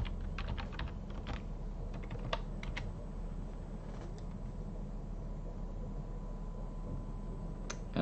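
Keys tapped on a computer keyboard while a password is entered, a quick irregular patter of faint clicks over a steady low hum, close, with no talking.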